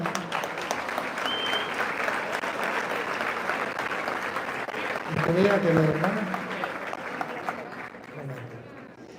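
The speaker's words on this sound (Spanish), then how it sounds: "Le damos un aplauso a la hermana." A church congregation gives a long, steady round of applause to a visiting sister from another church, with a voice speaking briefly over the clapping midway before it thins out.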